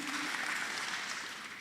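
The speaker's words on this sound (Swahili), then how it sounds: "naye tumpigie makofi" An audience at a welcome event applauds for a chaplain, a steady wash of clapping held at an even level for the whole stretch, with no voice on top.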